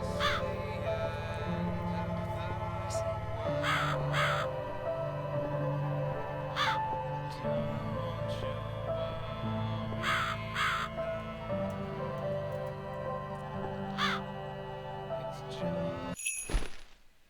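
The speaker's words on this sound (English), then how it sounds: "It's the crow again." A crow in The Cat Lady game caws in repeated sharp, raspy calls, mostly paired, at irregular intervals over a steady, eerie musical drone, ending with a brief crash near the close.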